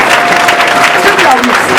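Church congregation clapping hands during worship, a dense steady burst of many hands close by, with singing voices over the clapping.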